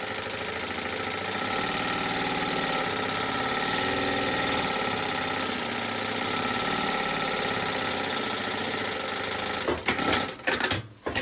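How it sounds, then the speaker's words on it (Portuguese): A sewing machine stitches a safety seam along fabric lining for a baby organizer, a steady close mechanical hum and rapid needle patter running for about ten seconds before a few sharp handling knocks. "já vou fazer uma costurinha de segurança"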